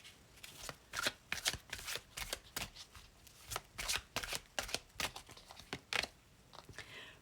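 Tarot cards riffle and slap through a long shuffle, a quick run of crisp, close papery bursts in uneven clusters that fill the whole stretch with no voice over them.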